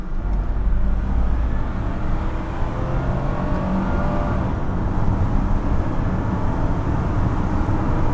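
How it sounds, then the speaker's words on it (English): A 1969 Mercedes 280SE 3.5 coupe, a W111 luxury car, accelerates with a steady, rising engine roar heard from inside the cabin, continuous and fairly loud with no talk over it. "This is a 1969 luxury car, and it does pick up."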